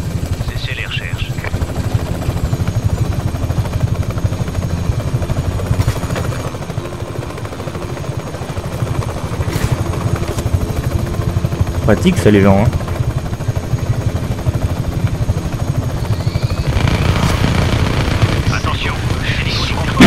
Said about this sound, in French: Attention, hélico du contrôle à votre position.